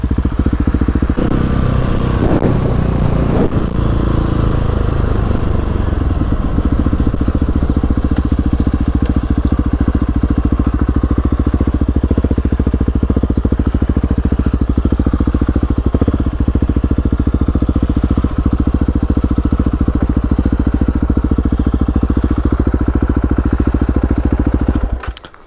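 A 2020 Husqvarna 701 supermoto motorcycle engine runs loud and close, with a deep, steady thumping drone and some crackle and clatter early on, then a constant rumble throughout.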